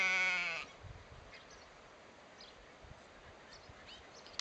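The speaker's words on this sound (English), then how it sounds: "More sheep." Sheep bleat loudly on a farm with long-horned sheep nearby, a single strong harmonic bleat at the start followed by quiet outdoor ambience with faint distant animal sounds.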